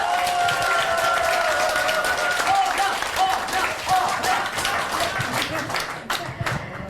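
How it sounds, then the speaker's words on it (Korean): An audience claps in welcome as a guest is introduced at a Korean women's policy agreement ceremony: dense, continuous applause filling the room for several seconds, with a voice and sustained tones faintly beneath. "한 분 한 분 소개해 드릴 때마다 큰 박수로 환영해 주시길 바라겠습니다"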